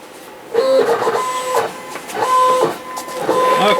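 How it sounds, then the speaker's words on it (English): Vinyl cutter pulling material off a roll, with a mechanical whirring and squealing drive noise in repeated surges as the roll slips, close and fairly loud. "When it makes that noise, that means that it's pulling on that roll and it slipped."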